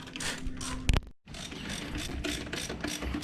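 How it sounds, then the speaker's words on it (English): A ratchet wrench clicks steadily while backing brake caliper bolts out of a vehicle, loud and close, with a brief gap partway through before the rapid clicking resumes. "I'm just pulling these bolts out. Pop the caliper off."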